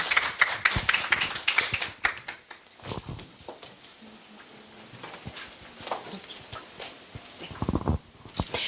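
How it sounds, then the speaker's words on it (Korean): Scattered applause from an audience at a teachers' conference session, a burst of claps at the start that thins into lighter, sparse clapping and shuffling, with a brief louder flurry near the end. "박수로 환영해 주시면 감사하겠습니다"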